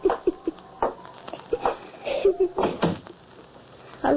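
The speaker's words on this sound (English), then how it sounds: "Herman, close the door." A door shut as a sound effect in an old-time radio horror drama about a werewolf, heard as several muffled, narrow-band thuds and knocks mixed with voices in the scene.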